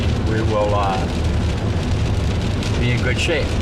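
Steady rain falling in the woods on a wet spring turkey hunt, a dense continuous patter under someone speaking briefly.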